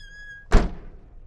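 Rear door of a 2002 Hyundai Porter dual-rear-wheel truck with manual gearbox shuts with a single heavy thunk, loud and close after a faint tonal hum, then fading into quiet background.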